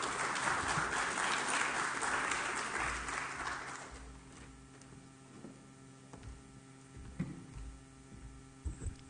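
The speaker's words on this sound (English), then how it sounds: "Let's give him a round of applause." A corporate event audience applauds to welcome a CEO, a dense burst of clapping lasting about four seconds before dying away into a quiet room hum with a few faint knocks.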